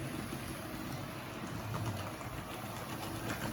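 A rewound X 410 armature motor in a late-1960s R.758 Hymek model locomotive bogie runs steadily on rails, a continuous low whirring hum with faint rattle, even and unbroken throughout.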